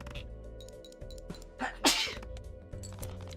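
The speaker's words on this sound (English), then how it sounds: "I sneezed." A single loud, close sneeze bursts out about halfway through, with a quick inhaled build-up and then a sharp explosive release, over faint background game music.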